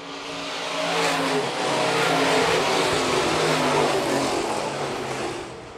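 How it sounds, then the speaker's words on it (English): IMCA stock cars racing at Phillips County Raceway, a dirt oval, engines roaring steadily at mid distance as the field comes out of the final corner, a sustained swelling drone with crowd-like background noise. "IMCA stock car feature coming to a close out of corner number four"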